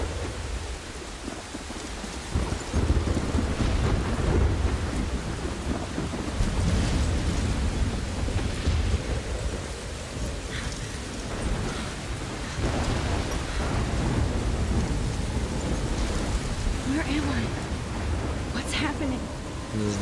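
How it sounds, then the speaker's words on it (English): Heavy rain pours steadily during a thunderstorm in the video game Life Is Strange, with low rumbling thunder rolling underneath for twenty seconds and a voice speaking briefly. "I'm trapped in a storm?"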